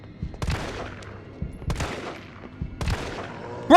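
Gunfire in Resident Evil 3 aimed at a zombie enemy: three sharp, punchy shots spaced about a second apart, each trailing off in a brief echo over a quiet background, with a louder burst at the very end.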